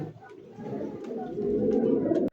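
A black checker female racing pigeon coos close by in low, throaty burbling phrases that swell and then stop abruptly.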